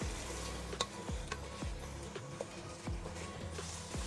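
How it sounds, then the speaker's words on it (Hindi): Prawns fry softly in a pan, a low quiet sizzle with occasional faint clicks and taps from the pan, steady and unhurried without any voices. "प्रॉन्स को हमने ज़्यादा नहीं पकाना, इसको बस 2 मिनट्स के लिए फ्राई होने देंगे हम।"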